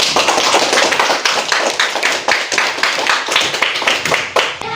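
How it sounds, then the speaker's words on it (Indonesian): A classroom of students gives a round of applause for a student group, brisk, close, irregular hand clapping that carries on loudly throughout the short burst. "tepuk tangan untuk kelompok 3"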